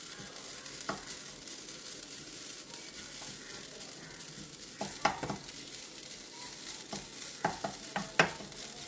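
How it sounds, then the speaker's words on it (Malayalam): Steady low sizzling of grated coconut roasting in a pan, with occasional scraping and light knocks of a spoon stirring, fairly quiet and close. "ഇളക്കി കൊടുത്ത് വറുത്തെടുക്കണം"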